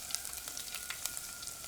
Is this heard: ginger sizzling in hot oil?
yes